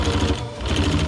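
Sewing machine running steadily while stitching a Bimini top storage boot, a fast rhythmic mechanical chatter with a low motor hum, close and continuous, no talking.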